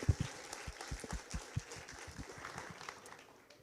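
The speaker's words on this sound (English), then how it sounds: "Please applause to the volunteers." Audience at a hacker games event in Kaunas clapping for volunteers, a brief burst of scattered hand claps that thins out and fades within a few seconds.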